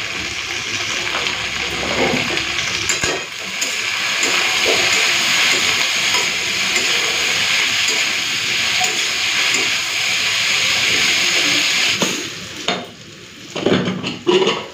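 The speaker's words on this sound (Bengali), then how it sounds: "তেলটা ভালো করে গরম করে নিয়েছি, এরপরে কেটে রাখা উচ্ছে আলুগুলো দিয়ে দেবো" Cut bitter gourd and potato pieces sizzle in hot oil in a pan, giving a loud, steady frying hiss with faint stirring knocks underneath, then a few clatters as it settles near the end.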